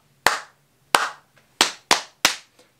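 Five sharp, distinct hand strikes in a rhythm game, two claps followed by three slaps on the knees or table. Each lands crisp and close against a quiet background, with brief gaps between them.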